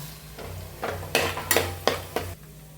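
Ginger, garlic and shallot masala for a Kerala chicken dish frying in a pan, with a soft sizzle under a run of scraping stirs, about five strokes in a loose rhythm, close and fairly loud.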